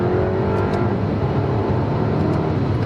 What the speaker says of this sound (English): Second gear, full throttle.